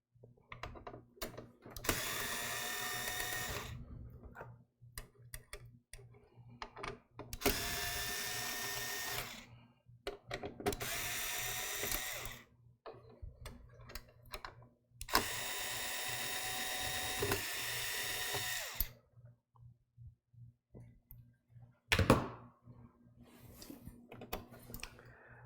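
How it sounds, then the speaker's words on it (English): An electric drill taking screws out runs in several bursts of a few seconds each, a high whirring spin with quiet pauses and small clicks and handling noises between them. "I think the electric drill would be good for taking the screws out."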